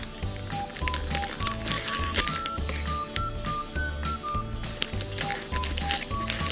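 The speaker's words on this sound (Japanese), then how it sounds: "10袋目開封していきます。" Crinkly plastic of a toy blind bag holding a whale figure being torn open and handled, busy rustling and clicking throughout at close range, with light music tones running underneath.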